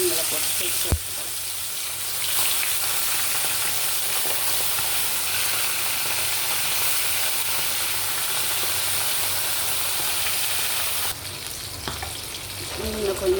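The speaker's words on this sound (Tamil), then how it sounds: "இந்த டைமில் இந்த மீன்களை போட்டு பொரிச்சு எடுத்துக்கலாம்." Sri Lankan-style fish sizzle and crackle in hot oil, a steady, loud, broadband frying hiss with occasional pops, continuous throughout and briefly shifting near the end.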